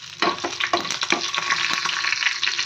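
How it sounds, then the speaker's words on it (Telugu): Mustard-seed tempering sizzles loudly in a pan for pachi pulusu (raw tamarind rasam), with a steady hiss and dense crackling pops throughout, close-up and with no voices. "పచ్చి పులుసు పోపు పెట్టాను."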